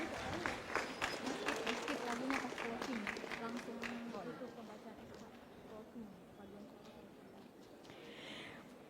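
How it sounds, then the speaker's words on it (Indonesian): Audience applause at a 2024 graduation ceremony of STIT Al-Khairiyah and Universitas Al-Khairiyah: dense, steady clapping under a loud voice on a PA, gradually thinning and fading as the talk goes on. "Bisa diberikan tepuk tangan yang meriah"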